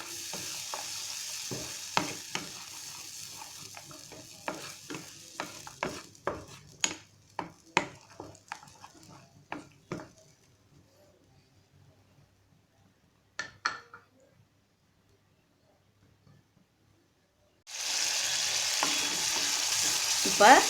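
Tomatoes being sautéed in a pan for green peas masala gravy: a run of sharp spatula scrapes and taps against the pan, then a quiet pause, then a loud, steady frying hiss near the end.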